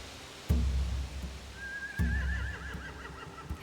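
Horses neigh in The Walking Dead: The Final Season: a low snort and stamp, then a second one, and a long, wavering high whinny that trails off. No voices.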